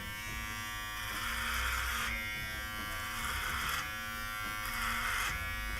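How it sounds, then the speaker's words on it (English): A low-cost electric hair trimmer with a 3mm guard runs with a steady close buzz, its pitch and loudness rising and easing in repeated passes as it cuts through hair, with no talking. "So I'm going to pop on this little trimmer here. I'm going for 3mm."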